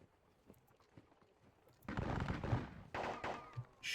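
Gunfire from a video game battle at Valmy: sporadic faint pops at first, then dense bursts of loud crackling volleys and booming shots rolling in close together.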